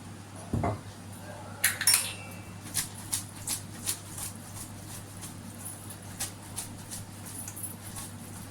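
Boiled vegetable noodles being tossed with a spoonful of oil in a metal pot, giving a run of light spoon clinks and scrapes, one sharper knock near the start, over a steady low hum.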